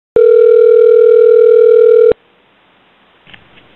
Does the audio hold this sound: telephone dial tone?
yes